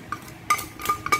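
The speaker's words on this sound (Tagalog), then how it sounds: "Tara, samahan nyo na ako mag-mix guys." Spoon clinking against a bowl while mixing macaroni salad with egg and chicken, a few quick bright metallic taps close up.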